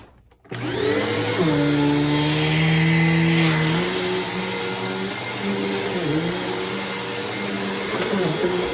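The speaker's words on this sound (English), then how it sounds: "So let's vacuum this house and see how this machine does." A Dirt Devil Breeze vacuum cleaner with a brand new belt starts up and runs steadily while cleaning a house. Its loud, continuous whining drone holds close and even throughout, with slight shifts in pitch as it moves.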